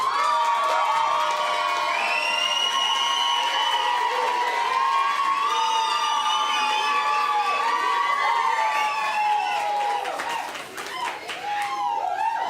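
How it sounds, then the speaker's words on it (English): A burlesque show audience in St. Louis cheers, whoops and claps loudly and continuously to vote for a team, a dense crowd roar sustained throughout with shouting voices on top. "So, by round of applause, let's hear it for Team Ass."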